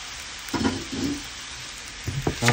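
Cooked noodles tossed in garlic oil in a pan for chicken ginger soup, a soft sizzling hiss with a few short scraping stir strokes, close and fairly quiet.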